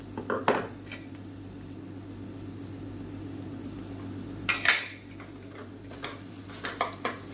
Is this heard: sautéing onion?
yes